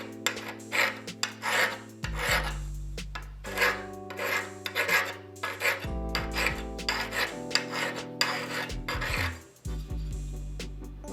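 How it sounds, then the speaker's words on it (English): Repeated push strokes of an oiled 180 grit diamond hone sharpening a woodturning tool edge, a steady rasping rub in short bursts, close and alone, with a low hum running beneath. "Then I'll come back with a 180 grit diamond hone. A little dab of oil on there. And then just do some strokes pushing up."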